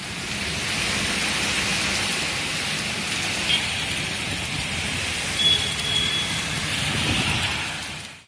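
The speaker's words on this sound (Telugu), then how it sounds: "నిన్న సాయంకాల సమయం నుంచి ఉరుములు మెరుపులతో పలుచోట్ల భారీ వర్షం కురిసింది" Heavy rain pours during an evening storm in north coastal Andhra Pradesh, a loud, unbroken roar of steady downpour. No distinct thunderclap stands out and no one speaks.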